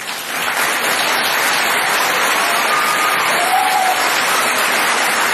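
A large crowd applauds loudly and continuously at a Kamala Harris speech, a dense, sustained wash of clapping that holds steady for about five seconds before cutting off.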